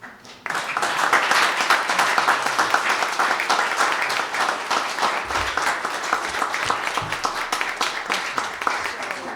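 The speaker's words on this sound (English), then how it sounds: "So, ladies and gentlemen, applause." An audience at a school history event breaks into sustained applause, a dense wash of many hands clapping that swells quickly and carries on evenly for several seconds.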